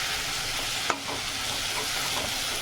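Dry fish chutney sizzles in a pan while being stirred, a soft steady frying hiss with a single sharp scrape of the utensil partway through.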